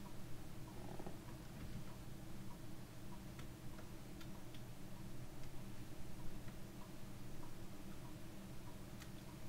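A house cat purrs close by with a soft, low, continuous rumble, joined by faint intermittent ticking in a quiet indoor room, with no voices.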